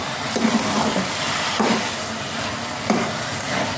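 Carrot halwa is stirred in a pan over low gas, giving three distinct scraping strokes against a soft, continuous sizzle in the background.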